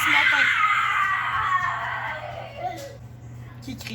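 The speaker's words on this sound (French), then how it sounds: "Qui crie comme ça?" A child screams at length indoors, a loud, sustained high-pitched wail that slowly fades over a few seconds over a steady low hum.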